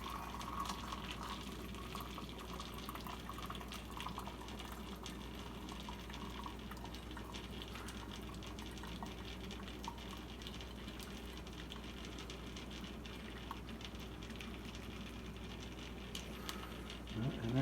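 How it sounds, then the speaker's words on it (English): Hot water pours steadily from a kettle into a Coleman 200 series lantern part, a continuous watery fill lasting throughout with a faint low hum beneath. "So I'm going to pour some water from the kettle in there."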